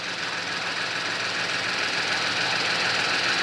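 A 2017 Genesis G80 3.3T-GDI engine runs steadily nearby, a continuous rumbling idle with a faint knocking texture and no other sounds.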